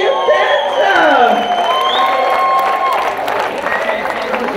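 Audience at a dance battle cheering and applauding for four dancers, loud crowd noise with whoops and shouts while a voice and music tones carry over the top.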